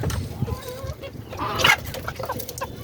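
Hungry chickens cluck and squawk close by while being fed on a small farm, with one brief louder squawk partway through over a busy, steady background.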